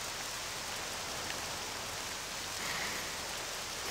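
Steady rain hiss in the video game Octopath Traveler II fills the whole stretch, an even wash of falling water with no other sounds standing out.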